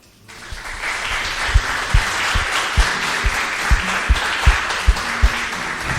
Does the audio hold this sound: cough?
no